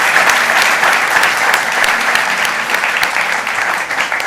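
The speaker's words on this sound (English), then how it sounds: "can I have a round of applause," A townhall audience gives a loud, dense round of applause to welcome an eminent economist, the clapping packed into a continuous roar at even strength throughout.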